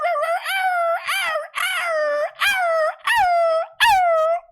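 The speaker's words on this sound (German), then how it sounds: "Warum ist ein Hund dabei?" A dog howls and whimpers in a series of about six rising, wavering wails separated by short breaths, close and loud with no talking.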